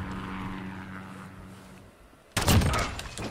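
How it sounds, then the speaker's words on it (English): Gunfire in Call of Duty Modern Warfare with an MP5 and Glock: a sudden loud burst of rapid shots near the end follows quieter game ambience and engine drone. "Both of us, we just unload."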